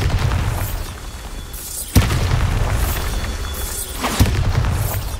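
Bombarda spell explosions in the video game Hogwarts Legacy: two sharp booming blasts land about two seconds apart over a continuous noisy background.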